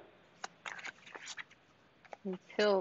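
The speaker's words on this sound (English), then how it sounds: "So shuffle them up as much as you want, much as you feel like they're shuffled" A deck of playing cards being shuffled by hand, with soft riffling and shuffling bursts interrupted by brief speech, and a louder voice closing the clip.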